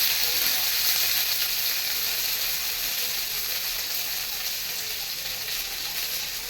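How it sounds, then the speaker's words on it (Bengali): Whole cardamom, cloves and cinnamon fry in hot oil along with cashews and raisins for pulao, giving a loud, steady, bright sizzle that holds on without a break and eases off only slightly toward the end. "এখানে আমি দিয়ে দেবো এলাচ লং আর দারচিনি। কাজু কিশমিশটাও একসাথে ভেজে নেব।"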